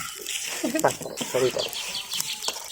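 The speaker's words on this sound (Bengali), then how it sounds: "এখানে এটা হচ্ছে আমাদের মুরগির ঘর" Chickens clucking inside a backyard chicken coop, several short close clucks and squawks over a busy background, with people talking at the same time.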